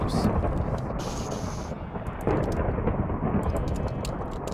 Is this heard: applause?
no